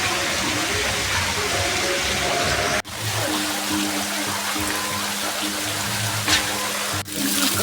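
Water falling like rain at Happy Land water park in Nepal, a steady broadband splashing wash that runs continuously throughout with brief dips, close and fairly loud.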